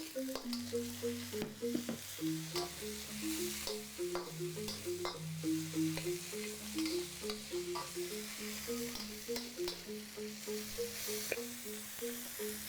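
Garlic and chilies sizzle in a hot pan while a utensil stirs and scrapes steadily throughout, close and fairly quiet.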